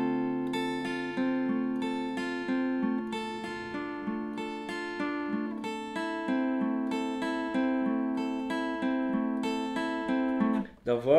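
Clean electric guitar plays the chords of a song, all parts combined, with steady ringing arpeggiated chords repeating in an even pulse and ending on a quick strum, no talking over it.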